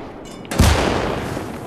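A sudden burst of loud gunfire erupts midway in the World War II game Call to Arms Gates of Hell on the Eastern Front, a sharp crack followed by a rumbling tail and battle noise.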